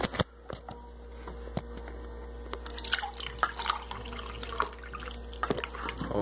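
Water drips and splashes at a sink or tap while being fetched and poured, with irregular close drops and trickles over a low steady hum and no talk.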